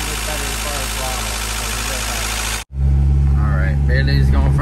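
A Honda Integra GSR engine idles high at around 2,500 RPM, a loud, steady close-up drone that cuts out for an instant midway and then resumes even heavier and fuller.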